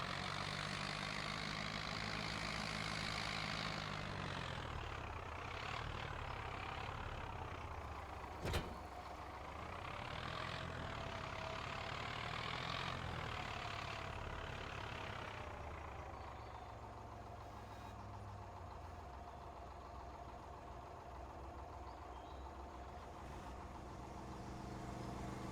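Tractor engine in the video game Farming Simulator 25 on the Riverbend Springs map, a steady, loud droning rumble that runs continuously, with a brief click partway through and a slight drop in level toward the end, with no talking.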